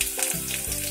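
Mustard seeds, curry leaves, chili, garlic and ginger sizzle steadily in hot oil in a kadai, a close, continuous frying hiss with no voices.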